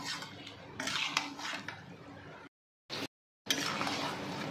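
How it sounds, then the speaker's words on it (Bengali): A spoon scrapes and clinks in a pan while potato and pea ghugni cooked with mutton fat is stirred, with repeated close metallic scraping broken by brief silent cuts. "দিয়ে একটু ভালো করে নাড়াচাড়া করে নিচ্ছি"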